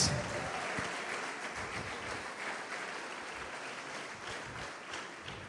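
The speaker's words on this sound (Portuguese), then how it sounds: "Pode aplaudir, glorifica a Deus" Church congregation applauding during an eschatology conference sermon, a steady wash of clapping that fills the clip and holds fairly even throughout, with some voices mixed in underneath.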